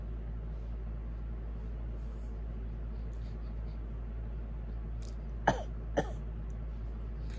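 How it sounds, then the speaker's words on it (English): Two short, harsh coughs about half a second apart cut through a quiet, steady background hum. "Look to the left and cough."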